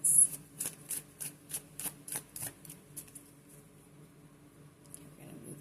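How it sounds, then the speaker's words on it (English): Oracle cards are shuffled by hand in a quick run of about ten crisp, evenly spaced riffling bursts, close and fairly quiet, then the sound fades to near silence. "let's go ahead and give these a quick shuffle."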